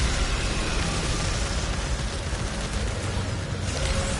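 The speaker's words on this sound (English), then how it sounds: "Love a good sidearm that fires quick." Rapid sidearm gunfire in the video game Returnal on PS5, a dense continuous burst of loud, noisy shots filling the whole stretch without a break.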